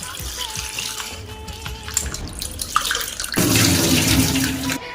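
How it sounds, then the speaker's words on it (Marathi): Poha (flattened rice) being washed clean under a running tap in a home kitchen, a steady splashing water stream that grows louder and fuller midway, with faint clatter behind. "आता स्वच्छपैकी आपल्याला धुवून घ्यायचे आहेत"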